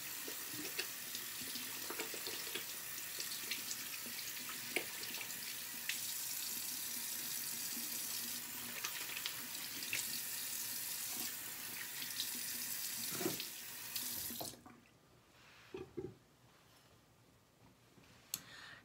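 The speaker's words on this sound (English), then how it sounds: "I'm gonna go ahead and use warm water." Tap water runs steadily into a sink with splashing as hands rinse, then the flow stops, leaving quiet with a few soft drips and handling sounds.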